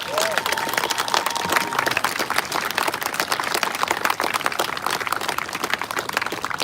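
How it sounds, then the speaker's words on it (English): Outdoor crowd clapping at a Portland, Oregon rally and counter-protest, a loud, dense, continuous round of applause from many hands, with a short whistle early on and no speech over it. "Give him another hand clap, because that shit was real."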